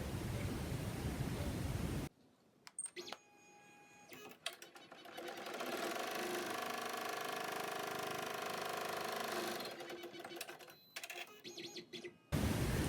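An embroidery machine stitches a flat-front fabric face mask held in the hoop, starting with a few stuttering clicks before a steady mechanical hum, then pausing and clicking again near the end.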